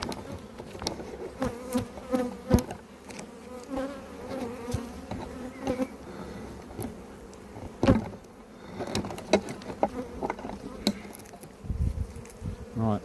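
Honey bees bearding outside the hive in hot weather make a close, wavering buzz of many insects, with individual bees zipping past the microphone and swelling louder at moments.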